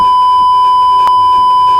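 A loud, steady censor bleep holds a single pure tone for nearly two seconds, cutting off abruptly at the end, with faint background noise beneath.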